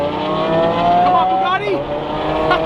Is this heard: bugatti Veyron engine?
yes